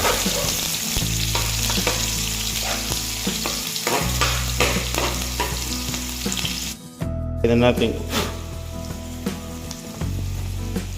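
Onions sautéing in a frying pan while being stirred, a steady close sizzle with repeated scraping strokes of the utensil and a brief pause partway through.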